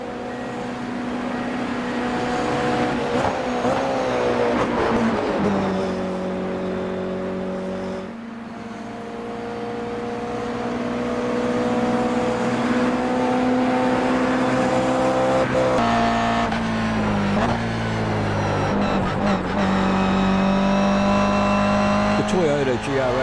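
Toyota GR86 race car engine in the iRacing sim at Bathurst, a loud sustained drone whose pitch climbs through gears with brief lifts and shifts, tire noise underneath, steady throughout.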